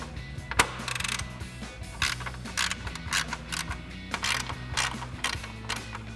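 A ratchet working on the nuts of a RAM 2500 headlight, using a deep 10mm socket, clicks in quick steady bursts, close and fairly loud, over a constant background hum.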